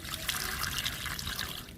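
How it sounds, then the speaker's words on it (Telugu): Steady trickling water poured close by onto a potted adenium plant, a continuous gentle splashing with no break for the full length. "ఎడేనియం ప్లాంట్కి వాటర్ ఇస్తున్నాను"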